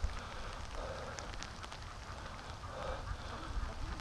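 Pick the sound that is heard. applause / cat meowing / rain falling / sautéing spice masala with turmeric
rain falling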